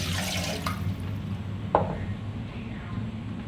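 Water splashes into a pan over a steady low hum, with a brief sharper splash midway; the sound is close and moderately loud.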